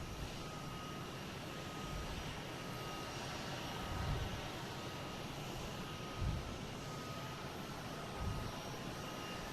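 A Southwest airliner departing Boston Logan produces a steady, distant jet roar throughout, with a few soft low thumps rising out of the continuous engine noise.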